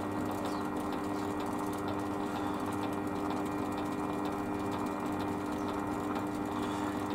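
A lathe with a three-jaw chuck spins steadily while turning a custom dart part, a continuous mechanical whir with a constant hum and faint ticking, alone without speech.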